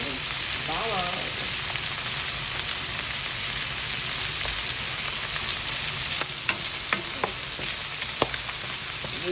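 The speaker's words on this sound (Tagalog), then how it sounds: "Ilalagay naman natin ang bawang." Garlic fries in a pan with chicken liver for pancit canton, giving a steady, close sizzle throughout, broken by a few sharp clicks of stirring near the end and a brief voice early on.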